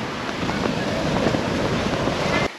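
Surf rolling onto a beach in Colombia, a steady continuous wash of waves with wind buffeting the microphone, loud and unbroken before cutting off abruptly at the end.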